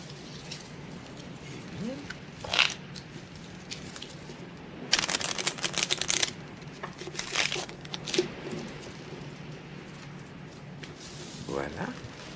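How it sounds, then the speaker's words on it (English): A deck of playing cards is shuffled at a table before a hand of bridge: several brisk, rustling riffle bursts close by, with quieter gaps between them. "You can shuffle the cards, Mr. Poirot."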